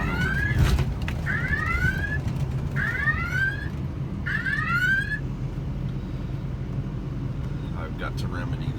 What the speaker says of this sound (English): Got to remedy that alarm.